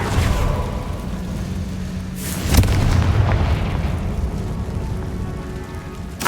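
Confringo blasting spell detonating in the Hogwarts Legacy video game: a sharp, loud blast with a booming low rumble partway through, surrounded by a crackling, rain-like hiss of debris and ambient game noise.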